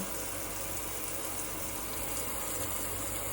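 Steady pouring water runs continuously at close range onto a girl's hair, a broad even rush like a stream from a jug or tap, with no speech.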